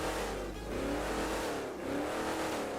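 Bison Hellfire truck in FiveM with its engine revving in short rising and falling swells, loud and near over a steady low rumble, no speech.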